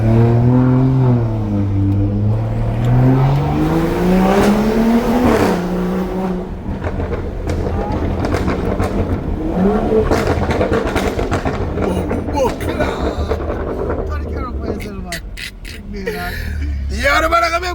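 A car in Sport Plus mode with an exhaust tuned to sound more aggressive revs and accelerates, its engine note rising and falling through the gears, loud and close. People talk over the engine.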